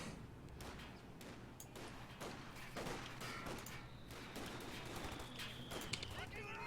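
Machine gun fire and other gunfire in the World War II strategy game Company of Heroes 2, a steady crackle of bursts mixed with explosions and battlefield noise at moderate level, with commentary talk over it.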